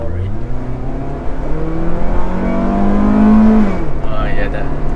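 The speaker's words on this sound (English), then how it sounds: "the signature VTEC sound" A Honda Integra DC5's VTEC engine revs up in a steady, rising drone that climbs to a peak and then drops off, heard from inside the car while occupants talk.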